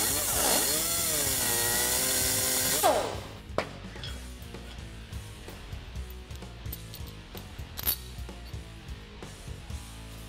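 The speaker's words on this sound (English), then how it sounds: "just cleaning up the excess metal left on the tabs with a cutoff wheel" A cutoff wheel grinding excess metal off steel tabs during a Jeep Wrangler JK suspension lift install, a loud, steady high whine for about three seconds that then stops, followed by scattered metallic clanks and tool handling.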